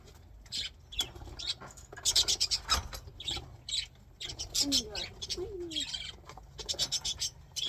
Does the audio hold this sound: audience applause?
no